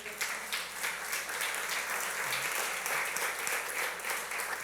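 A congregation at a church service applauds: continuous, even clapping from many hands, somewhat distant and moderately quiet, holding steady for several seconds with no voices over it.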